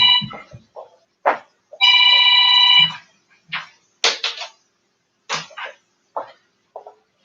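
A phone rings in a short electronic tone burst, surrounded by scattered coughs, clicks and brief voice fragments in a quiet room.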